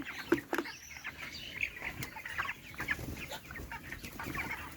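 Broiler chickens cluck and squawk in short, scattered bursts at close range, with a busy background of more birds and no talking.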